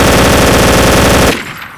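A PPSh-41 submachine gun in Garry's Mod fires one loud, very rapid continuous burst that cuts off sharply, followed by a short fading echo.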